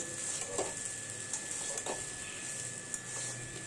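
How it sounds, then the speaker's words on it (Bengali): Sabudana and spices are stirred together in a pan, with soft scraping strokes and occasional spoon taps over a low, steady sizzle. "এবার সাবু আর এই মশলাগুলো আমি ভালো করে নেড়েচেড়ে মিশিয়ে নেব।"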